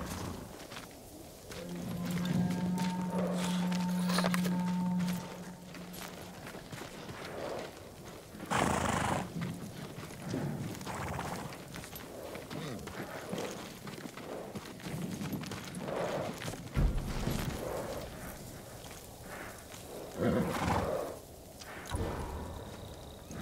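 Samurai horses in the video game Ghost of Tsushima snort and neigh at close range, with a sustained whinny early on and soft hoof clopping and shuffling throughout.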